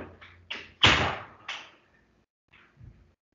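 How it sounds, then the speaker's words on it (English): An indoor door is pushed shut, a burst of scraping and rattling that builds to one solid thump, then a couple of lighter knocks fading into quiet. "let me just close my door here real quick"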